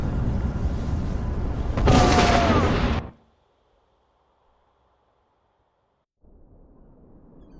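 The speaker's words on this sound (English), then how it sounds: "That was an explosion." A loud explosion in the fantasy video game Enderal: a dense, roaring blast of broadband noise swells and holds for about three seconds, then cuts to near silence before a low ambient rumble returns.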